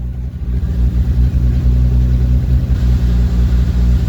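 A Mk4 Toyota Supra engine runs steadily at close range, a low rumbling idle with slight uneven pulsing and no voices.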